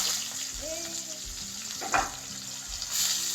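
Meat frying in a pan with ginger paste, a steady close sizzle running throughout, broken by a few stirring scrapes and soft clatters while someone talks in the background.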